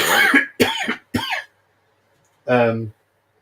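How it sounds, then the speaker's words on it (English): Someone talks briefly, then after a pause lets out a single short, rough cough. "my throat keeps wanting to cough"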